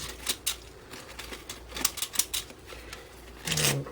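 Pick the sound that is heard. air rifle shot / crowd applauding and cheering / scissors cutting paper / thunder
scissors cutting paper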